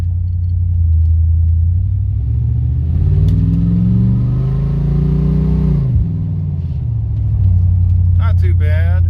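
An old Cadillac with a carburetor and fuel-pump setup that needs adjusting and a sticky throttle accelerates in first gear. The engine rumble climbs in pitch, then drops back to idle, heard loud and close from inside the car.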